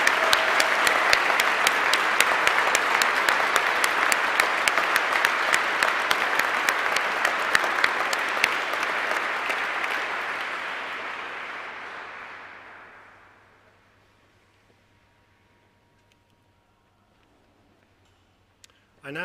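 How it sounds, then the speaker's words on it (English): A large audience at a university degree ceremony applauds graduating students, dense steady clapping that fills the hall for about twelve seconds before fading out into near silence, with a brief sound at the very end. "Can we give them a great round of applause?"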